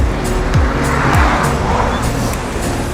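Cars backed up in weekend traffic on a road narrowed to a single lane, a continuous drone of engines and tyre noise up close, with a couple of brief squeal-like sweeps and no talking.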